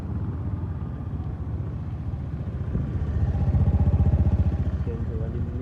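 A late-model Honda Scoopy i scooter idling after starting, a steady low throbbing engine note close by that swells slightly midway, with someone talking over it.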